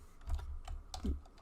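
Keys on a computer keyboard are tapped in a short, close burst of soft clicks while a birthday card greeting is typed out.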